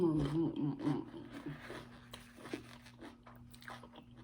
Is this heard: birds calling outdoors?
no